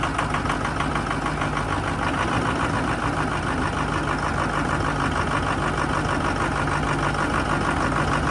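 A 6.0 diesel van engine idles steadily just after starting, a dense, continuous knocking rumble with a low hum that holds at constant loudness close by throughout, with no speech.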